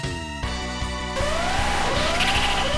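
A siren from the video game SaGa Frontier rises as a wailing, upward-sweeping tone over busy game music and battle effects, loud and continuous through the second half.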